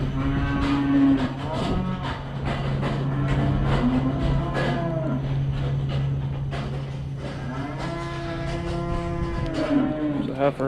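Cows in a heifer barn mooing loudly and close, several long drawn-out lows separated by short pauses, over a steady low hum from the barn, with no talking.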